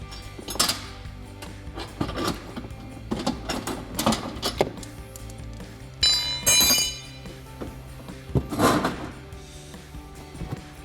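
Metal clinks and clanks come from a Jeep Gladiator JT's stock front bumper bracket and nuts as they are removed and set aside, with irregular sharp knocks and rattles spaced over several seconds and no speech.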